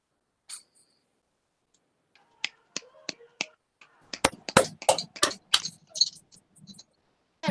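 A small audience snapping fingers after a poem at a spoken-word cipher night: scattered single snaps at first, then a dense flurry of many snaps together before trailing off, fairly close.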